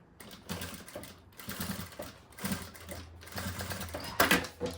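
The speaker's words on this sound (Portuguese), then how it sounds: "Vamos dar uma costurinha aqui pra ficar bonitinho." A domestic sewing machine stitches a small fabric toiletry bag in short bursts of fast, even mechanical clatter, separated by brief pauses, quiet and close.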